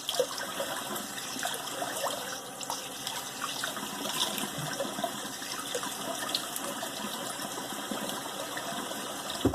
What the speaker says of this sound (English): let me do a cold water rinse